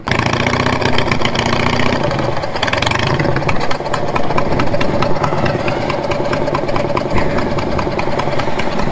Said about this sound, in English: that mower is not going through that at all